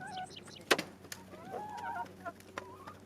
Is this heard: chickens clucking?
yes